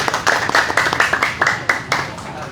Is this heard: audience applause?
yes